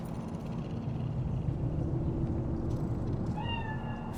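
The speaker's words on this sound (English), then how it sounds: "Do you see it? That cat?" A cat in Cyberpunk 2077's Night City lets out a rising meow near the end of the clip, over a steady low ambient rumble.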